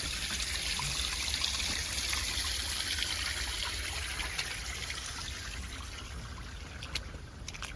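A heavily polluted river in the United Kingdom flows with a soft, steady trickle and gurgle of water, quiet and continuous throughout without any voices.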